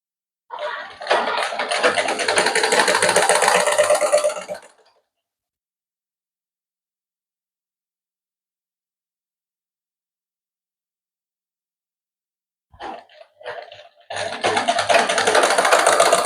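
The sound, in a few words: sewing machine stitching a shirt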